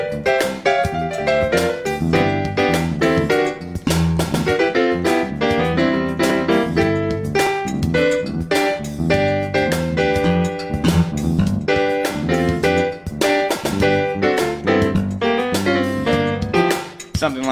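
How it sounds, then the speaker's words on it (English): A funk music excerpt plays continuously, with punchy drums, syncopated bass and tight rhythmic stabs driving a busy, loud groove for about seventeen seconds, no talking. "let's listen to a couple seconds of funk"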